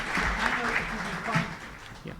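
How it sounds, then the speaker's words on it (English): Conference audience applauding at the close of a panel, a moderate clapping wash with a voice speaking over it. "Big round of applause, please."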